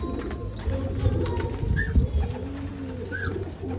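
Pigeons coo in low, throaty repeated calls close by, with a couple of brief higher chirps and some shuffling noise.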